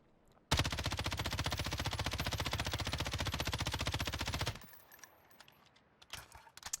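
Sustained automatic fire from an M13 assault rifle in the video game Warzone, a loud, dense, rapid burst lasting about four seconds, then quieter scattered game sounds and a few faint clicks.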